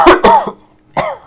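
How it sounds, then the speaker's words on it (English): A short fit of coughing: two quick harsh coughs, a brief pause, then one more, loud and close. "we just had a bit of a coughing fit there"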